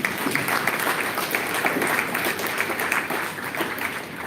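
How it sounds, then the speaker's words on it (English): Audience applause at a panel discussion on climate change, steady dense clapping filling the whole stretch at an even level with no voices over it. "A round of applause for him as well"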